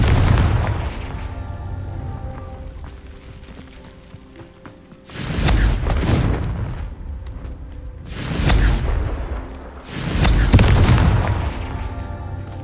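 Blasting-spell explosions from a Harry Potter video game: three loud, deep booms with rumbling tails a few seconds apart, following a softer fading blast at the start.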